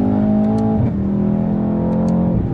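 A Mercedes-AMG S 63 drives on an open stretch of Autobahn, its engine a loud, steady droning hum with two brief dips in pitch as it shifts gears, heard close and continuous.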